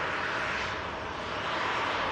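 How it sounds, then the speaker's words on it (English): An Aer Lingus Airbus A330 jet takes off from Manchester Airport, a steady, broad engine roar that stays fairly distant and unbroken throughout. "Aer Lingus A330 next to go."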